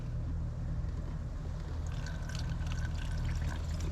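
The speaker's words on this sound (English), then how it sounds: "the last thing is to add the actual coolant" OAT coolant pours into the cooling system of a RAM Promaster van in a faint, continuous trickling gurgle over a low steady background rumble.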